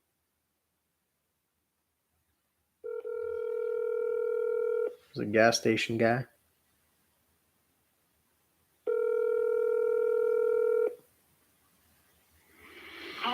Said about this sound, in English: Let me make a phone call to this guy.